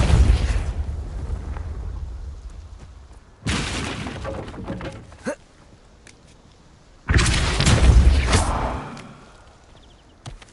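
Two heavy booming blasts from the Confringo explosion spell in Hogwarts Legacy, each a sudden loud burst that rumbles and crackles before fading, separated by a few seconds of low ambient game noise.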